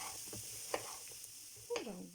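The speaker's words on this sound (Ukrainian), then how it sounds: "Цибулю обсмажую, поки вона стане прозорою." A soft, steady sizzle of onion frying in a pan, with a few light scrapes and clinks of a utensil stirring.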